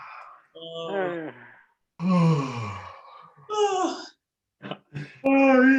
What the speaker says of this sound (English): Stretch the entire jaw as you yawn.